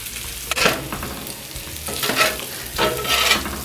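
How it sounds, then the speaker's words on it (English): Bacon crisping on a griddle for a smash burger: a steady close sizzle with several louder bursts of frying and scraping as it is moved around, with no voices. "our goal here is just to get this bacon a little crispy"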